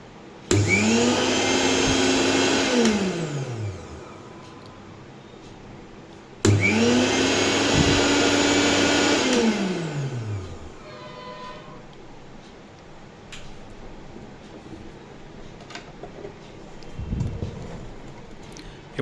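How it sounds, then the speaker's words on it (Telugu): A repaired mixer grinder with new carbon brushes runs in two loud whirring bursts, each winding up and then spinning down, followed by faint clicks and handling noises. "ఇప్పుడు మిక్సీ రన్ అవుతుంది ఫ్రెండ్స్, చూడండి"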